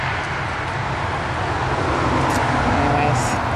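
Steady roadway traffic noise, a loud continuous broadband rumble and hiss of passing cars without pause, with a voice present under it.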